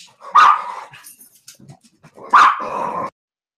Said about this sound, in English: Sorry, my dog was barking.